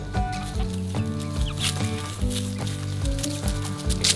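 A baby rooster clucks in short, repeated bursts up close, set against a busy farmyard background.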